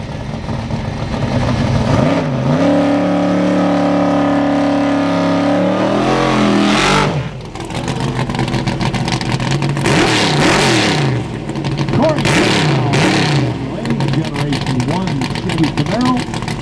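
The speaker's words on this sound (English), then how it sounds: "Camaro 500 plus cubic inches of big block Chevy on board." Drag racing Camaro with a 500-plus cubic inch big block Chevy, loud and near, revving hard with rising and falling pitch, then roaring again in repeated bursts. Announcer-style voices and crowd noise sit under the engine.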